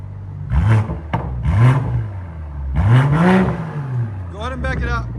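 Straight-piped 2021 BMW M340i with a 3.0L turbo inline-six revving in sport mode, three loud rising and falling exhaust blips close by, followed by a brief crackle.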